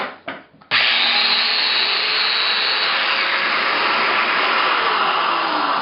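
A Festool Domino joiner cutting a mortise into a butcher block: a few brief stuttering starts, then a loud, steady high whine with a whirring motor that runs alone for about five seconds.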